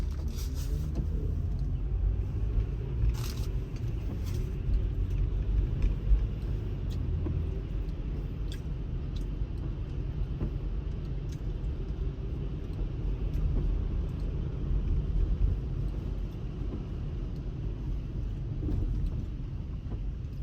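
A bus rolls alongside on a Vancouver city street, its engine making a low, steady rumble heard from inside a moving car, with faint road noise and a few light clicks over about twenty seconds.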